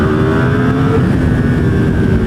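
A powerful motorcycle engine revs hard but short of full throttle, producing a loud, close, sustained engine roar with a steady pitch for a couple of seconds.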